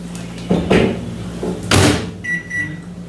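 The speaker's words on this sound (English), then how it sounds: "And then I'll be able to put that in the microwave" Microwave oven in a home kitchen, its door pulled open and shut with two solid clunks, followed by the keypad's short series of high electronic beeps, close and loud, with no talking.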